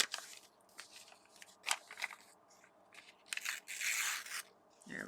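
Gel print paper is torn by hand in several short, crisp rips and crackles, close and fairly quiet, with brief pauses between tears.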